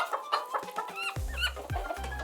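A chicken clucks in short, choppy bursts, close and clear, with no talking.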